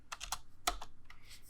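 Close, fairly quiet typing on a computer keyboard, a short burst of uneven key clicks including a firmer central tap, as if from the spacebar.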